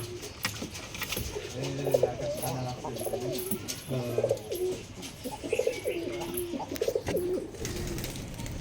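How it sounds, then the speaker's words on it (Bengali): Giribaz pigeons coo in soft, repeated, rolling phrases close by in a loft, a steady low murmur with faint background noise. "এখানেও আছে কবুতর ঢোপে কবুতর বলে ভাই"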